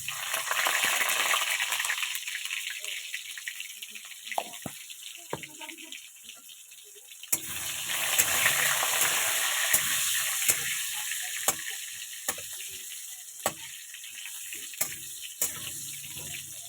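Sliced potatoes drop into hot oil in a wok and sizzle loudly, the hiss easing briefly before swelling again, with sharp clinks of a utensil stirring at intervals under faint background voices.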